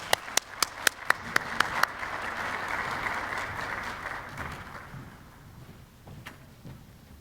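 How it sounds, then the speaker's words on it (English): An audience breaks into applause before an award lecture, opening with a few sharp loud claps that swell into sustained dense clapping filling the room, then thinning and fading out toward the end. "So please, everyone give a round of applause as we start this lecture."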